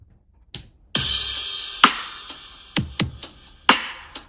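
A compressed drum track with parallel compression plays on its own: a punchy kick and snare pattern with bright, crisp cymbal wash and several sharp hits over about four seconds.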